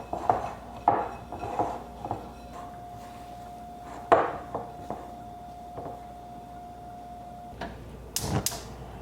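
Onions, celery and minced garlic are stirred in a pan with a utensil, making irregular clanks and scraping knocks against the metal, close by and with no one talking.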